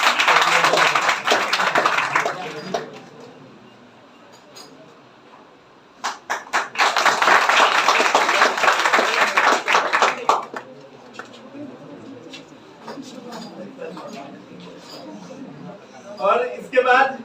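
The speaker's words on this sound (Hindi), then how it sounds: "साइंस्ता के लिए जोरदार तालियां।" Audience applause for a student topper at a school felicitation ceremony, two bursts of clapping a few seconds apart amid crowd noise and a nearby voice.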